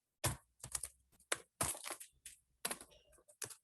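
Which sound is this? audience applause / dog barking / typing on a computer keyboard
typing on a computer keyboard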